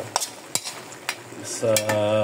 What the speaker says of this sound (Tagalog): Naprito na yung ating bawang sibuyas. Halo ulit.